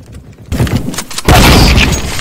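Sawed-off shotgun fire in a video game, two loud bursts, the first at about half a second and a bigger, sustained blast from about 1.3 seconds, with no talk over it.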